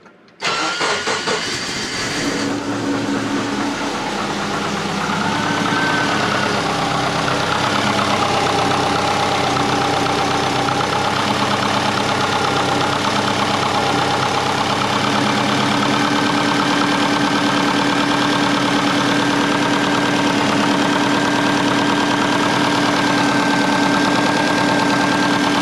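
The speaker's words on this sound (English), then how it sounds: "Got her idling pretty good, but she's smoky." A tuned, smoky Subaru Forester engine fires up after a brief crank and settles into a loud, steady idle that holds near and constant throughout.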